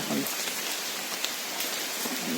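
Heavy rain pours outside in a dense, steady hiss of drops on surfaces, loud and unbroken, with no other sound standing out.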